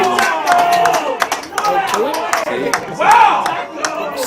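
A local league football crowd at a North Albany versus Mount Barker match shouts and cheers in reaction to a tackle, rising and falling in loud bursts with claps and whistles, while a commentator talks over it.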